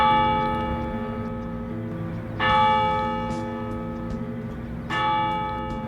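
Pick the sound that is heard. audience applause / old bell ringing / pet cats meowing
old bell ringing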